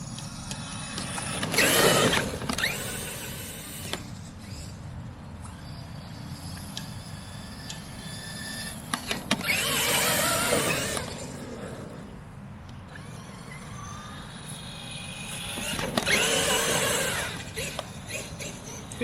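A Traxxas XMAXX 8S RC truck drives across an open cricket field in three loud broadband motor bursts, near then passing, with quieter stretches of field ambience and faint insect chirps between runs.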